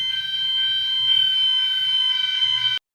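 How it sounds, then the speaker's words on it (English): A fire alarm set off by smoke indoors blares with a loud, steady, high electronic tone over a faint pulsing undertone, sounding continuously until it cuts off abruptly near the end. "I got that fire on me, so the fire alarm went on."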